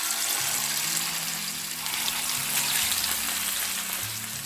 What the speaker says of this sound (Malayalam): നമ്മൾ ഫിഷ് മാരിനേറ്റ് ചെയ്ത് വെച്ചത് ഓയിലിലേക്ക് ഇട്ട് കൊടുക്കുമ്പോൾ